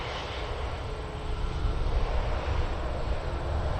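An Air Canada Rouge Airbus A319 jet at Toronto Pearson, bound for Moncton, gives a steady broad engine roar that swells slightly midway and holds, heard alone at moderate distance.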